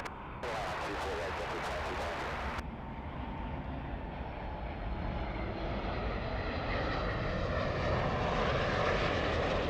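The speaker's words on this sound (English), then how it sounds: "Southwest Airlines, the 737" A Southwest Airlines Boeing 737 jet at LAX gives a sustained engine roar that swells steadily louder over nearly ten seconds. A brief burst of wideband noise comes early, and no one talks.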